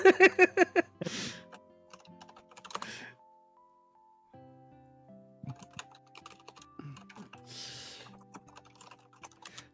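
Rapid keystrokes on a computer keyboard clatter loudly at the start, then the sound drops to quieter, sparse tapping over a low background of sustained tones.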